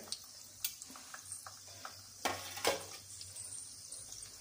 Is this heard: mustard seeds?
yes